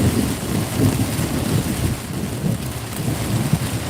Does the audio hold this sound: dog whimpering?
no